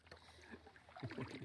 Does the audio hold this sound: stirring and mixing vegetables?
no